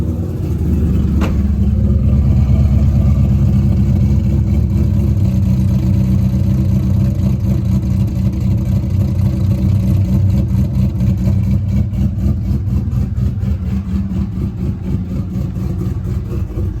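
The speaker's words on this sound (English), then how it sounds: "That's literally like the best sounding engine on planet Earth." Cammed V8 of a C5 Corvette idling with a loud, lumpy, choppy rumble, blipped up in a quick rev early on, then settling into a steady loping idle, close and alone without talk.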